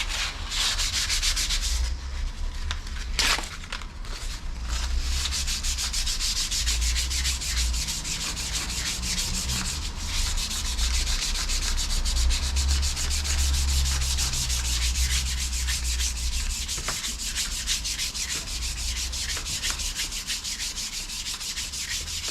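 Cleaning a motor spindle on a Commer Q4 with steady abrasive rubbing, a continuous close sanding scrape that keeps going for over twenty seconds without a break.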